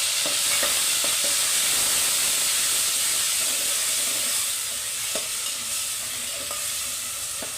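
Ginger paste is stirred into browned onions frying for egg biryani: a steady, hissing sizzle runs throughout, with scattered light scrapes and clicks from the spoon.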